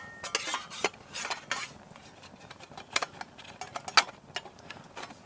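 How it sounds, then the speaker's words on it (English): A metal ash pan is fitted into a One Tigris wood camp stove, producing a quick series of light metallic clinks, taps and rattles, close and irregular, with small gaps between knocks. "We will then put in our ash pan."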